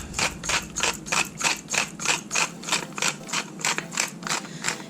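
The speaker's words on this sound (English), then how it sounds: "this is a salt grinder, so it's not really as much as you would think coming out" A salt grinder twisted over a camp stew gives a rapid, regular train of close, crisp grinding crunches, about three per second, loud and alone.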